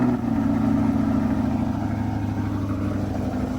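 Sports car with a Z51 exhaust idling after startup, a loud steady low rumble close by that eases slightly in level toward the end, with no speech.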